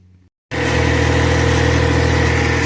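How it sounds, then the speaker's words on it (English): Tractor engine drives a water pump on a farm, starting abruptly and then running at a steady, loud idle with a constant drone. "Sorry about the tractor noise, but we're running the pump."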